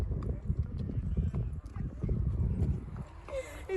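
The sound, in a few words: horse hooves clip-clopping during horseback ride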